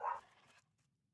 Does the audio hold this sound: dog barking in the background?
yes